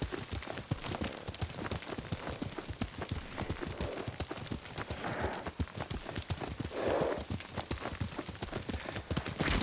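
Horse hooves clip-clopping at a steady, rapid rhythm while riding in the Ghost of Tsushima video game, close and continuous, with a soft ambient wash behind and no talk during the clip.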